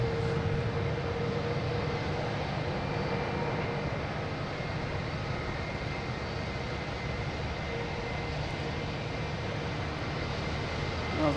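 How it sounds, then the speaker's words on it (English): A JetBlue airliner arriving from Chicago lands at Boston Logan, its engines producing a steady, moderately distant roar that holds evenly across the whole stretch. "Here we have a JetBlue coming in from Chicago"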